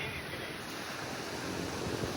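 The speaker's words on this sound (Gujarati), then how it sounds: "દરિયો જે મોજા આવે છે" Sea waves wash in at Dumas beach, a steady, dense roar of surf mixed with wind buffeting the microphone, continuous and fairly loud with no clear talk.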